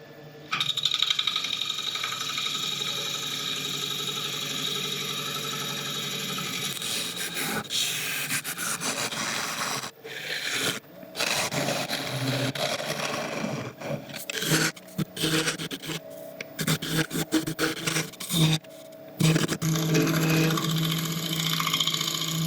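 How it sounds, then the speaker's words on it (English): A wood lathe hollows out an African mahogany bowl, with the gouge giving a continuous close rasping and scraping against the spinning wood, broken by short pauses and bursts where the cut stops and restarts. "let's finish hollowing this out."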